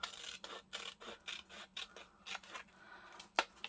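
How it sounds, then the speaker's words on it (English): Scissors snip the top flaps off paper for handmade textured journal tags and pockets, a series of crisp, close cuts arriving in an irregular rhythm with quiet pauses between them. "Okay, so I'm going to cut these top flaps off."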